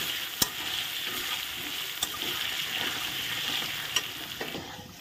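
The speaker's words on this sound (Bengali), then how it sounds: "লবণ হলুদ দিয়ে নেড়ে চেড়ে ভেজে নেব।" Potato pieces frying in a pan with turmeric and salt while being stirred, a steady close sizzle punctuated by a few sharp clicks of the spatula against the pan.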